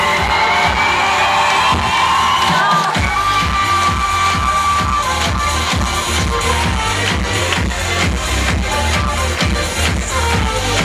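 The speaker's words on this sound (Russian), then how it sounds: "Выступление победителя конкурса Никиты Бритвина сорвало овации еще до своего начала." A loud crowd at the final of a high-school Mister contest in Kirov gives an ovation for the winner's performance, with sustained cheering, whoops and shouts over a steady rhythmic beat.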